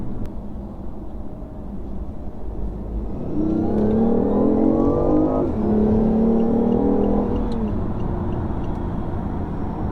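A BMW i8 sports car's engine revs up with a rising, then falling whine while driving, swelling loud through the middle seconds over steady road rumble.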